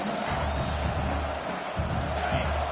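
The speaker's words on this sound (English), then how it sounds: "This crowd going to try to make life miserable for these guys." Stadium crowd at a college football game against Auburn, a steady broad roar of many voices filling the space with low rumbling swells, sustained throughout at moderate distance.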